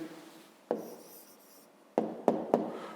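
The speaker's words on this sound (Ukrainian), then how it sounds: "Записуємо відповідь." A hand writes an answer with pen on paper, producing short scratchy strokes and a few sharp taps against the desk, close and fairly quiet with no voices.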